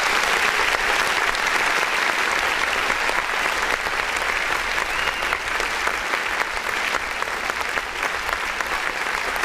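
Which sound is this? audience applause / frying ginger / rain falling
audience applause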